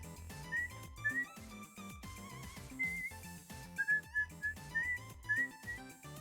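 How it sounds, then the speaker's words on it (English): A person whistles a wavering tune in short, repeated phrases, mixed with background music while doing a craft project. "Maybe I shouldn't whistle."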